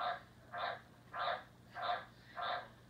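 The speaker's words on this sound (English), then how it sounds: "Those are my pet tree frogs that are up in that cage there." Pet tree frogs in a cage croak in five evenly spaced, raspy bursts, moderately loud against a quiet room with a faint low hum.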